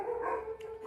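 Dogs barking nearby in a short, steady burst lasting under a second, fairly loud with no talk over it.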